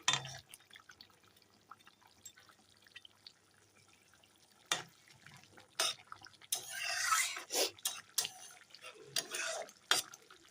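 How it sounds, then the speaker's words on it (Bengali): Fried tangra fish going into a simmering curry and being stirred, with near, intermittent wet clatters and scraping bursts in a quiet kitchen, no talk. "এখন আমি ভেজে রাখা মাছগুলো দিয়ে দিচ্ছি মাছগুলো দিয়ে একটু ভালো করে নেড়ে দিই"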